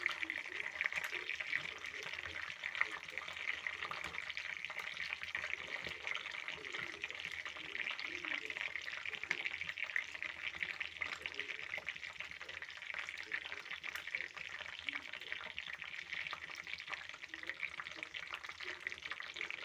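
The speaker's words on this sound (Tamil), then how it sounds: "தேங்காய் நல்லா கொதிக்கணும். அப்போ தான் அந்த இலையோட சாரெல்லாம் நம்ம மிக்ஸ்அப் ஆகும் நல்லா." Herbal leaves, including henna, simmering in boiling coconut oil for homemade hair oil, giving a steady soft sizzle and bubbling hiss that continues evenly throughout, faint and close with no talk over it.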